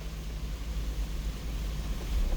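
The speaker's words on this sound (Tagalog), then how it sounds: "Lakas ng ulan guys." Heavy rain drums on a vehicle on a highway, heard from inside as a dense, steady wash of hiss over a low road rumble, with no voices.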